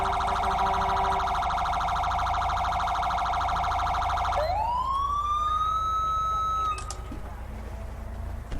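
Police car siren in GTA V with the LSPDFR mod, a loud steady electronic warble that switches to a rising, sweeping wail, then cuts off, leaving a low background hum.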